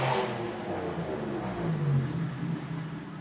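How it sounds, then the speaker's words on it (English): A BMW car engine revs at a distance, giving a steady mid-pitched drone that rises and falls briefly, with no talking. "That's probably a BMW."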